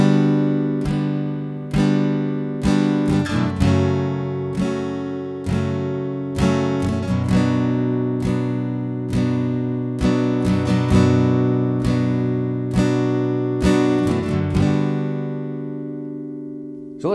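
Acoustic guitar with a capo strumming the three-chord intro of a song, slow steady strokes ringing out with sustained chords and no voices.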